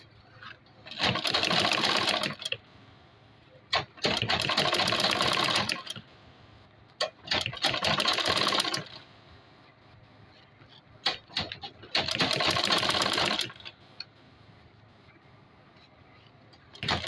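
Sewing machine running in four long, steady bursts of top stitching through a large travel bag, each run a few seconds long with brief quiet pauses between, loud and close with no talking.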